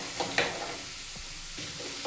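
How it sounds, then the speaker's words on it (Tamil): Chopped onion sizzles in a hot pan for coriander chutney, a short, steady frying hiss with a few stirring scrapes, close and alone without speech. "லைட்டாக வருந்ததும் வெட்டி வச்ச வெங்காயத்தை போட்டுக்கலாங்க"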